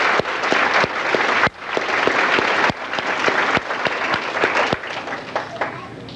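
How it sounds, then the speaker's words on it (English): An elementary school dedication ceremony audience claps for PTA council representatives, giving moderate applause from a hall with a few sharp nearby claps standing out and trailing off toward the end. "Could we have a round of applause for those ladies?"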